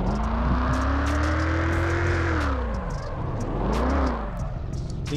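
A car drifting in the mobile racing game Tuning Club Online, its engine droning loud and close with the pitch rising and falling through long slides, and bursts of tyre screech over it.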